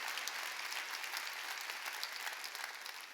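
A congregation at a New Year's Eve church service claps together, a steady and fairly faint wash of many hands heard from a distance that tapers slightly toward the end, with no voices over it.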